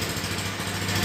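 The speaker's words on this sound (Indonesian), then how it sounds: "Starternya itu masih nging teman-teman." Electric starter on a red 2011 Honda Tiger Revo SE motorcycle, cranking with a steady, close, continuous motor whine and hum and no pause across the short stretch.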